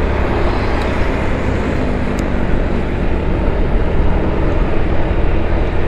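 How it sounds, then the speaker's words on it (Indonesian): Motorbikes and cars rush fast along a ring road, producing a continuous, loud traffic roar with no breaks. "karena motor sama mobil kenceng-kenceng ya,"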